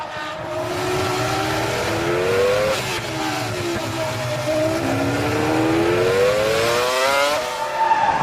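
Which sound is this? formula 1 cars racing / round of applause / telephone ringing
formula 1 cars racing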